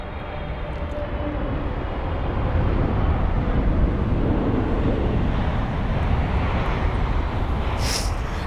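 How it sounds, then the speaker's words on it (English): An Egypt Air Boeing 777-300ER airliner at London Heathrow gives a loud, broad engine roar that swells and holds steady, with wind rumble at the microphone. "There's Egypt Air and their 777 from Cairo, this is. So the 300ER."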